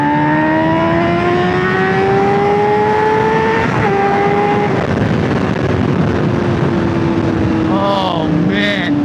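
A 2024 Honda CBR600RR sport bike with a freshly serviced chain pulls hard in third gear, its loud, close engine note climbing steadily in pitch under heavy wind rush, with a brief dip midway and a quick rev change near the end.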